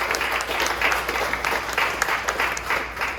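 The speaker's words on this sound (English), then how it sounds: "Give them all a round of applause." A large audience claps loudly and steadily in a dense, continuous round of applause with no talk over it.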